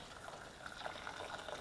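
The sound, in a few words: water poured over ginger beer spices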